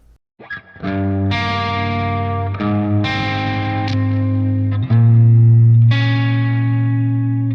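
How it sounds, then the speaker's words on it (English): Electric guitar played through an amp-simulator plugin with reverb and delay, sustained distorted chords ringing out one after another, loud and close with echoing tails and no talking. "Put that reverb and delay back on."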